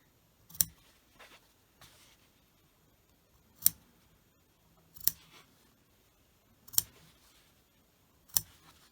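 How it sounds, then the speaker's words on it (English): Scissors snip fabric up to a stitch while sewing a small doll's dress: five crisp, separate cuts spaced a second or more apart, close and quiet, with no talking. "So very carefully"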